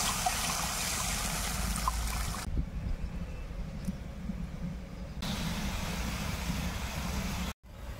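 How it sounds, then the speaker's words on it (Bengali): Water poured into a pan of spiced oil for a thin rohu fish curry gravy, a steady loud trickling and splashing that continues throughout with a brief dip in the middle and a momentary break near the end. "জল দিয়ে ঝোল করে নেব।"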